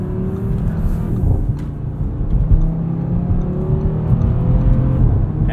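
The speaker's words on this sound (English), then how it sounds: "You don't really start to appreciate this turbo five-cylinder until you're really hustling it." A 2022 Audi RS 3 with a turbocharged five-cylinder engine accelerating hard, a steady, loud engine drone rising in pitch throughout, heard from inside the car with no talking.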